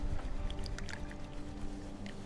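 Gold paydirt being swirled with water in a container during a clean-up, producing continuous sloshing and gritty washing sounds. It is close and steady, with faint clinks and trickles on top and no talk.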